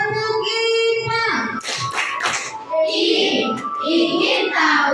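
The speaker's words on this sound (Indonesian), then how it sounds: "kita coba tepuk IPA" A school class performs a rhythmic science clap chant, with children chanting in unison and a few bursts of clapping between the chanted lines, close and loud.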